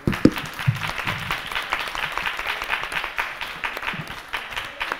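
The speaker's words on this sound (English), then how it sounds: "A round of applause." An audience at a talk breaks into steady applause, many hands clapping in a dense, even patter that continues throughout at moderate loudness.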